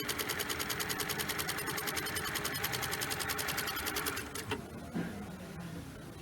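A double needle lock stitch sewing machine runs in a fast, steady mechanical rhythm, loud and close, then slows and stops near the end, leaving a faint hum and a couple of clicks.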